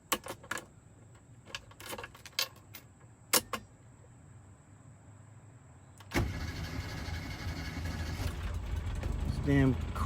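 A 1989 Rover Mini's carbureted engine is started after a few sharp clicks and knocks in a quiet cabin, then catches and settles into a loud, steady running rumble.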